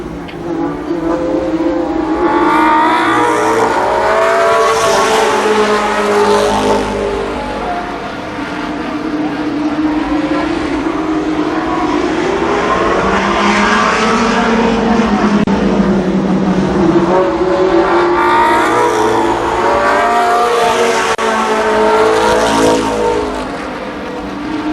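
Race cars roar around the oval at Columbus Motor Speedway during a 1993 Firecracker Championship event, the engine drone loud and steady and swelling as packs pass, with no speech over it.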